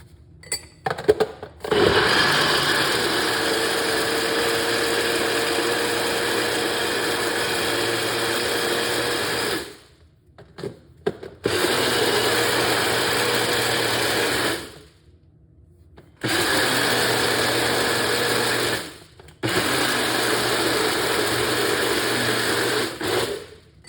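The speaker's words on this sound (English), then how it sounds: "The blender won't burn up." A loud motorized whirring runs steadily in several long bursts, each cut off by short pauses before starting again.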